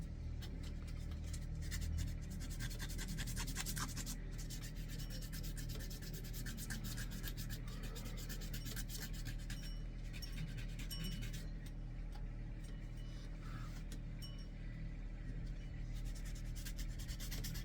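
A wooden fishing lure is hand-sanded outdoors with very coarse P10 grit sandpaper along the grain, giving a soft, continuous scratchy rubbing in quick back-and-forth strokes.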